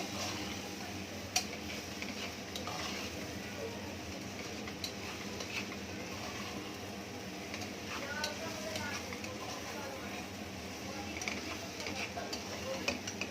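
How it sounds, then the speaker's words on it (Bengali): Dalia veg khichuri being stirred in a pot after salt goes in, a soft continuous sizzle with occasional faint ticks and scrapes from the stirring, fairly quiet and even throughout. "নুন দেওয়ার পরে এবার একটু নাড়াচাড়া করা হচ্ছে।"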